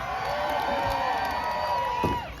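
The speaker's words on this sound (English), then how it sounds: "Cheer them on, guys." A crowd at an outdoor Canada Day throwing game cheers and whoops together in a short, lively burst of overlapping voices.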